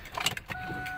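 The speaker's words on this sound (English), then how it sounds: "So you hear the pump kick on." An electric pump in a car switches on, a few short mechanical clicks and bursts giving way to a steady, fairly quiet whirring hum with a faint high whine.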